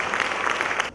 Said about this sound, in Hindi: तालियों के बीच भरत शाह जी का स्वागत करूंगी।